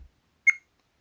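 A single short electronic beep from an AKASO V50 Pro action camera, bright and close, in otherwise near silence.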